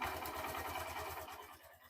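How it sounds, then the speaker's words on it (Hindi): A motorcycle engine with a low-voltage battery sputters and catches with a steady low chugging pulse, close by, then eases off slightly at the end. "तो करता है बाइक को स्टार्ट"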